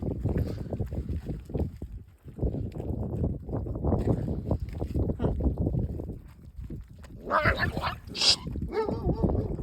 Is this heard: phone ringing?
no